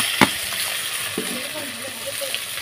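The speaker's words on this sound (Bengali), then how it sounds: "তো দেখো মাছগুলো ভালোভাবে উল্টে পাল্টে ভেজে নিচ্ছি," Koi fish frying in a wok, being turned over and browned, gives a steady close sizzle with a brief clattering burst near the start and faint tonal sounds underneath.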